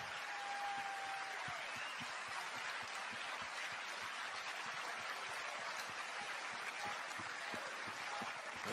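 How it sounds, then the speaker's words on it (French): At a political gathering an audience applauds, a fairly faint, steady wash of many hands clapping that continues without a break, heard from some distance and with no talk over it. "je crois qu'on peut les applaudir encore, nos amis"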